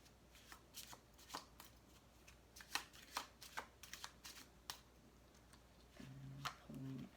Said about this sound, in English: And then I feel like shuffling some more.